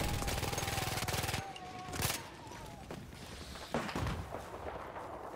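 A Villa Perosa submachine gun in the video game Battlefield fires a rapid, evenly spaced burst for about a second and a half, followed by scattered shots and explosions in the background.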